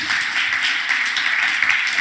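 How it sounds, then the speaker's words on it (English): Steady applause from an audience after a talk on photographing animals, a dense wash of many hands clapping evenly throughout a brief two-second stretch. "A big applause again, please"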